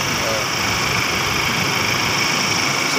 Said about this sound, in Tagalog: umaandar na yung makina